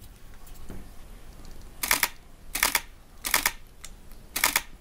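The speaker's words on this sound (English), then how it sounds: "It almost sounds like 3 pictures are being taken." A DSLR shutter firing with silent shooting turned off, four loud, sharp mechanical clatters at a fairly even pace, each a busy multi-part snap, close up over a faint room background.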